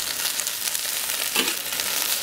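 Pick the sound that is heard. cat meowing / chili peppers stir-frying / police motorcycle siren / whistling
chili peppers stir-frying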